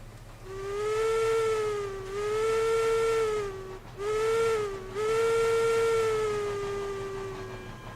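A steam locomotive whistle in the Railroads Online game, a tonal, harmonic-rich call sounding in three long blasts with brief gaps, over a steady low rumble and hiss of the running train.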